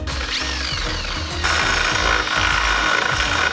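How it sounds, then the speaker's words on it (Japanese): A power tool chatters steadily as it deburrs the rough edge of a hole drilled out to 10.5 mm in a metal frame, with a rhythmic grinding pulse that grows a little louder partway through; no speech. "そしたらバリが出ているので削っていきたいと思います。"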